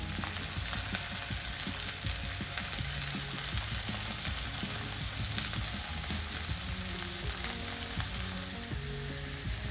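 Small pieces of liver go into a pan of sautéed onions and fry with a continuous crackling sizzle, quiet and close, with faint stirring scrapes through it.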